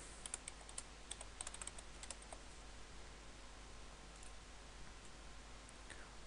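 Typing on a computer keyboard while entering text in Photoshop: soft, scattered keystrokes in quick irregular bursts, quiet and close, with no talking.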